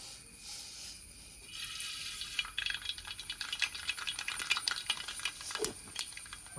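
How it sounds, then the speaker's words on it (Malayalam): Sharp, rapid crackles and pops build up against a faint hiss as mustard seeds spatter in hot coconut oil, close and continuous. "വെളിച്ചെണ്ണ ചൂടായിട്ടാണ് നമുക്ക് കടുകിട്ട് കൊടുക്കാം"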